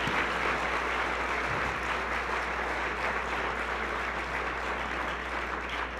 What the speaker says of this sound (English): let's give a round of applause for our Kappa Tau Alpha recipients